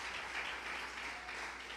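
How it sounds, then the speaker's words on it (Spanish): Congregation applauding during a Spanish-language church service, a continuous even patter of many hands clapping, fairly soft and heard without any voices. "Dele su mejor aplauso al Rey bendito de la gloria."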